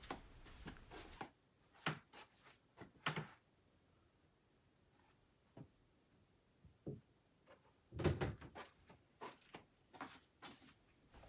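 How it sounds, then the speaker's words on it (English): Custom acrylic display case door on an IKEA Pax unit being swung open, with scattered light clicks, taps and knocks of hinges and panel, quiet with gaps between, one sharper knock near the end. "Here's a nice little demonstration of how far back this door can go."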